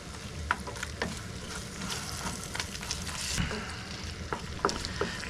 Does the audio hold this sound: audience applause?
no